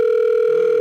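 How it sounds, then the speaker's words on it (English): Telephone ring tone, a loud steady electronic tone held without a break for just under a second, heard alone. "But yeah, it's ringing. It's ringing. I got a phone call."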